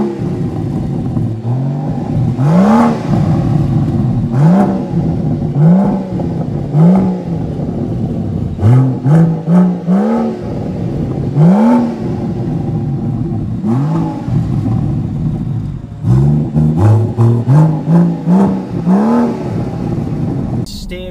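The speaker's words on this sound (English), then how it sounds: "when you put it into sport mode, that completely changes." A BMW M760Li in sport mode with its exhaust valves open revs and accelerates, producing a series of rising engine sweeps that repeat every couple of seconds, loud and close, with short gaps between pulls.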